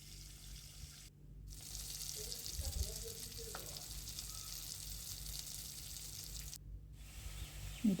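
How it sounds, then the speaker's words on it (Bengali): Shing fish fry in a pan with a low, steady sizzle, fairly faint, broken by two brief silent gaps, with no talking. "সেই মাছগুলো একটু ভেজে নেব"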